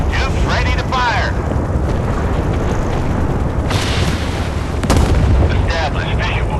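A warship launches a missile in the naval game Force of Warships, a loud roaring rush with a sharp burst partway through, over dense background noise.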